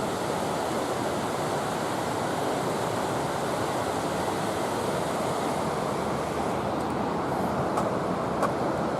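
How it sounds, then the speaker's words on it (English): Whitewater rapids on a river at a rafting area in the Smoky Mountains roar steadily as a broad, continuous rush of turbulent water, loud and unbroken, with no voices. "This is the big whitewater rafting area. If you look further up, there's a lot of big rapids forming."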